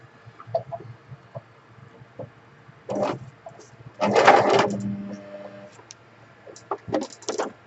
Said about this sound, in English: all we're going to do is machine sew it around